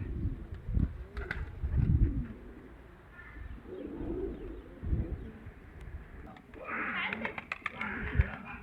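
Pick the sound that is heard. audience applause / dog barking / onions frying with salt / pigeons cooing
pigeons cooing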